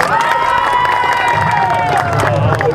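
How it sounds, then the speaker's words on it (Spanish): A crowd at a PLD political rally in La Descubierta cheers and applauds loudly with shouts and whistles, a dense, continuous roar heard up close. "Un fuerte aplauso para Tata"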